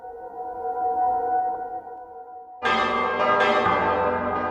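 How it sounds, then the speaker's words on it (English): Town bells suddenly crash into a loud, intense clangor after a softer sustained bell hum, ringing out with rich overtones from the west side of a town. "there is another crash of bells coming from the west side of town"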